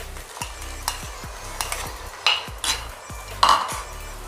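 Tomatoes being added and sautéed for chicken biryani: a steady sizzle with a series of utensil scrapes and knocks against the pan, a few louder clatters near the end, no talk.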